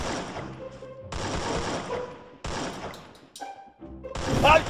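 Bursts of gunfire from the Free Fire battle royale video game come in several loud, dense clusters separated by short gaps, with a final burst at the end.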